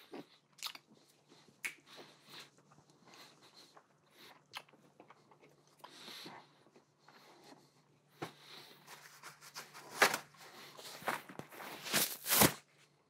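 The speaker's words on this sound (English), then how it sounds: "I'm not done chewing." Someone chews a sticky cannabis-infused sea salt caramel close to the mic, with soft wet mouth sounds and scattered sharper clicks and smacks that grow louder and busier near the end.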